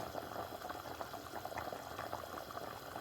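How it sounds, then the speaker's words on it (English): Jamaican curry goat simmers in a covered pot on the stove, a faint, continuous bubbling hiss with no voices. "I'm gonna cover up the pot, make him go and cook down"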